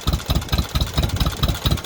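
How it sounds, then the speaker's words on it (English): A John Deere M crawler tractor engine idles close by, putting in a steady, even rhythm of low, regular pulses with no voices over it. "you should be able to get your tractor to putt like that"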